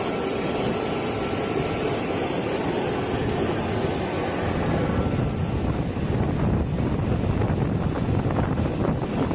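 A private plane's jet engines whine loudly and steadily on the ground after landing at Banda Aceh, a constant roaring hiss with a high-pitched tone running through it, close by and with no talk.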